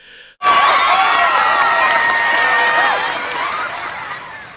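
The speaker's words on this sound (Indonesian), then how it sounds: "Sorak-sorai pecah dari tribun pendukung mereka" Supporters in the stands of an anime dance competition erupt into loud, sustained cheering and shouting after a brief quiet moment, the roar fading slightly toward the end.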